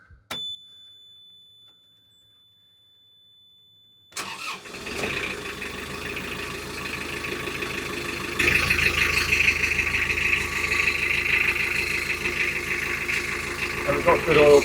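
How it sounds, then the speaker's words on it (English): An Isuzu marine diesel on a narrowboat cranks and fires after about four seconds of near silence, then settles into a steady, loud idle that grows slightly fuller, with a thin high alarm tone running briefly at the start. "So I'm just going to start the engine up."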